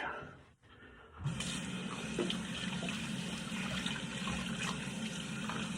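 Water runs from a tap while someone shaves with a budget yellow Alshabab safety razor. After a brief quiet start, a steady, continuous rush of water begins and stays even and close until the end.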